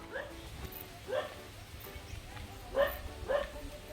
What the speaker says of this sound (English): I don't know why she's barking, but we'll find out.